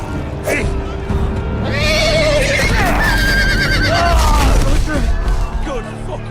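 A horse whinnies loudly and close in the Game of Thrones video game, with hoof clatter and crashing impacts around it as players talk and shout over the scene.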